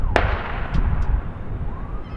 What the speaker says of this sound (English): It's another gunshot.